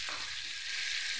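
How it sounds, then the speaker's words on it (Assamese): Spiced meat paste sizzles and fries in a little oil while being stirred, a dense steady hiss, brief and close. "লৰাই চৰাই আপোনালোকে মাংসখিনি মছলাৰ সৈতে ভাজি ল'ব।"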